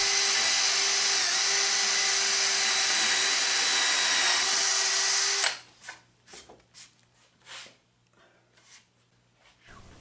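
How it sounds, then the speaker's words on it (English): Power drill pre-drilling a hole into a wooden paddle board for a water wheel, a loud steady whine for about five seconds that stops abruptly, followed by scattered clunks and handling knocks. "Pre-drill the third hole on the opposite side of the spoke into the paddle board."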